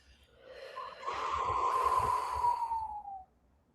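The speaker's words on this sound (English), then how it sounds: "Exhale." A long, steady exhale through the nose or mouth during a paced breathing exercise, close and breathy, swelling for about two seconds before trailing off, heard alone.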